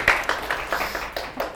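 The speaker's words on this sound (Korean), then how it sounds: "큰 박수 맞아주세요" An audience claps to welcome a speaker at an Incheon aviation industry lecture, with a short run of separate, evenly spaced claps.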